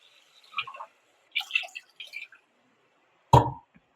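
Water tipped from a glass into a cooking pot for one-pot tomato rice, heard close as a few short splashy trickles followed by a louder clunking splash near the end, with no one talking.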